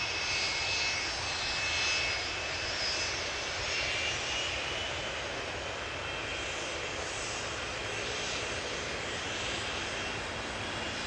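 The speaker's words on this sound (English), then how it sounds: "Here we have Icelandair Flight 500, Boeing 757-200, 24 years old." A 24-year-old Icelandair Boeing 757-200 on Icelandair Flight 500 at Amsterdam Schiphol gives off a loud, sustained jet engine roar, steady and close throughout, with no voices.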